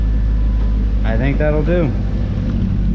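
A 300+ hp Ford Mustang GT with an exhaust leak at the X-pipe idles with a steady low rumble, while someone speaks briefly over it.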